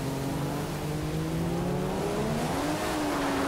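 An F1 2015 video game race car engine hums under light throttle on a stormy Singapore circuit, a steady drone that climbs gently in pitch near the end over a hiss of rain-like noise.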